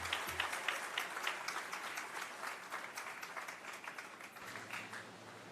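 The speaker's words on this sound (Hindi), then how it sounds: "जोरदार तालियों से अभिनंदन माननीय मुख्यमंत्री जी का।" A crowd applauds at a government benefit-distribution event in Raipur, giving the chief minister a welcome with sustained, even clapping from a large audience and no speech over it.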